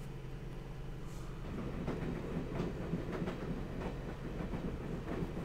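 Train ride in the video game Broken Sword, heard as a steady rumbling carriage with faint rhythmic clicks and rattles. The noise runs continuously throughout without speech.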